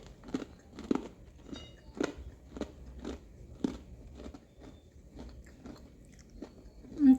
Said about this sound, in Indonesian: saya akan gigit ini biji ketapangnya